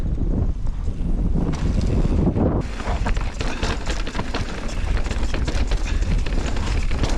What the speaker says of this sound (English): Yeah, it is a bit windy.